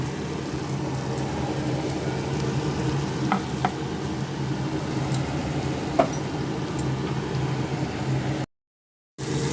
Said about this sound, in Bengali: এটা দিয়ে একটু হলুদ লবণ দিয়ে আমি এটাকে একটু ভাজা করে নেব।